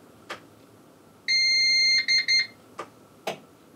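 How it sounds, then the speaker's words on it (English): A CyberPower CST1500SUC sine-wave UPS beeps at power-on: one long electronic tone followed by two short beeps, clear and close, with faint clicks before and after. "You hear a beep and it's operational."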